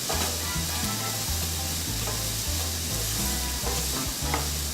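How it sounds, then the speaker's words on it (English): Food sautés in a pan while making tostadas, producing a loud, continuous close-up sizzle with occasional stirring; low, steady tones hum underneath and no one speaks. "We're just gonna allow this to saute just a little bit."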